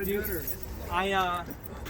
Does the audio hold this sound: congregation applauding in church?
no